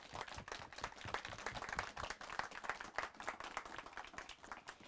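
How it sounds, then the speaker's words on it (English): Applause at a townhome grand opening in Northfield, Minnesota, heard as a fairly faint, distant crowd clapping that stays brisk and continuous for several seconds. "Can we give them a round of applause?"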